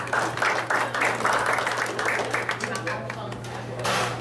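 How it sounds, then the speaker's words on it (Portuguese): Applause from members and guests at a Rotary Club meeting in Florianópolis, a steady patter of clapping sustained for a few seconds in a room, with a low hum running underneath. "Solicito uma salva de palmas aos visitantes e convidados"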